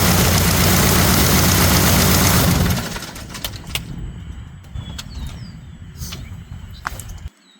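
Light aircraft engine running with a newly installed propeller, a loud droning roar for nearly three seconds that then drops to a quieter idle with clicks and knocks before cutting off.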